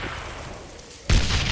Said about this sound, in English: These are standard issue stick grenades. Just aim and let them fly.